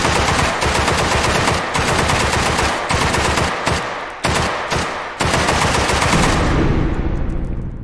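Rapid, loud automatic rifle fire in the VR game H3VR, long bursts of close shots separated by a few brief pauses, ending with the final rounds trailing off.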